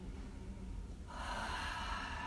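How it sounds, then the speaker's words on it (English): A steady breath drawn in as part of a three-part inhale in a mindful Krav Maga breathing exercise, a soft airy rush that swells and grows louder partway through, close and alone with no talk. "So a three-part inhale."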